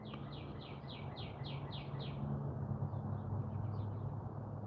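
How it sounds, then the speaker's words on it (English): Birds sing outdoors on an overcast day, a quick run of repeated chirps at moderate distance that fades into sparser calls over a steady background hum. "Hear the birds?"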